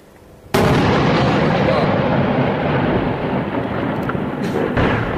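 A heavy tank shell blast in Rastan, Homs, hits with a sudden loud boom that rolls into a long sustained rumble, with a faint sharp crack near the end.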